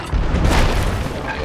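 Ship cannon fired during a brig battle at Fort Reaper in the video game Sea of Thieves, a deep booming blast that fills the whole short clip, loud and close, with rumbling low end.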